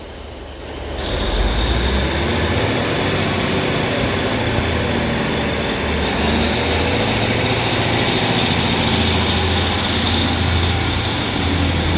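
A Northern class 150 diesel train pulls out of Bolton station with a loud, steady rumble of engine and rolling wheels that holds throughout, with a faint high squeal above it and no voices.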